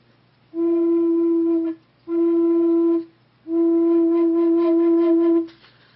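Three sustained breathy notes on a handmade Native American flute with a slightly too-tall slot, at a steady pitch, each held for one to two seconds with short pauses between, airy and close.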